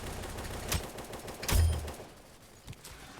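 Sniper rifle fire in the Roblox shooter game Aimblox: a few sharp, loud gunshots at uneven intervals, the strongest near the middle, over a low game background with no talking.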